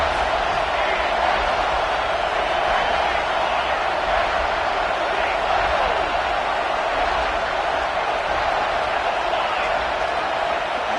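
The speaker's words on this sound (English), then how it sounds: "how nice is it to have the home crowd going absolutely bananas?" Home crowd at an American football game roars in a dense, steady wash of cheering that holds loud and unbroken throughout.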